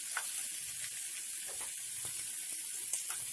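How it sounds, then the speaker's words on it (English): Sausage browning in a pan for Southern-style baked beans, a steady close sizzle and crackle of frying with faint stirring scrapes, no voices. "So I started browning the sausage already"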